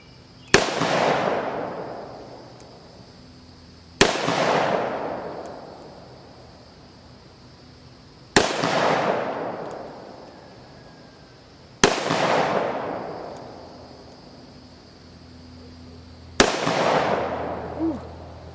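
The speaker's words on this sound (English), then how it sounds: "we're going to take a few shots" Five loud gunshots from a Ruger SP101 .357 revolver fired at a shooting range, each a sharp crack with a decaying tail, spaced about four seconds apart.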